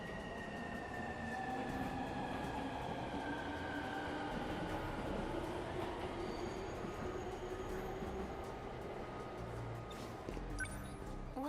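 A train passes in the video game 13 Sentinels, a steady close rumble of cars rolling along the rails with thin metallic wheel squeals drawn across it, continuous for about eleven seconds with no talk.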